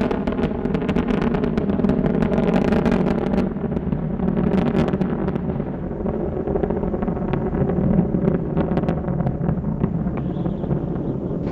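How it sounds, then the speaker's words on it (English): Space Shuttle Endeavour's three main engines give a deep, continuous roar during its final launch in 2011, broad and steady, crackling throughout with wind buffeting, heard from a distance with no voices. "Three engines now throttling down as Endeavour passes through the area of maximum dynamic pressure"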